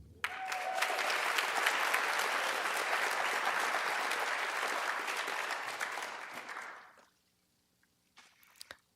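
A remote cohort of small-business graduates receives sustained audience applause, dense and even for about seven seconds before cutting off, followed by near silence and a few faint sounds.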